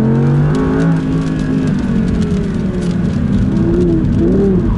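Audi R8 V10 RWS rear-wheel-drive supercar with traction control off, its V10 engine loudly revving and accelerating hard, a steady strong roar with rising and falling pitch sweeps, close and continuous.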